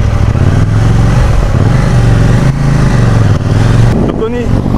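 Loud, continuous engine drone of a KTM 790 Duke A2-restricted motorcycle being ridden, steady rev with slight pitch shifts and wind, heard up close throughout without pauses.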